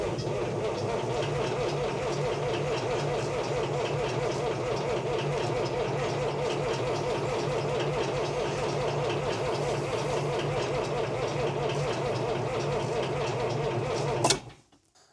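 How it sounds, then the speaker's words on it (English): An old John Deere 30 series tractor engine turns over steadily in the cold, a continuous rhythmic chugging and cranking that goes on without a break for about fourteen seconds and then stops abruptly. "typical 30 series John Deere is going to take a little extra effort."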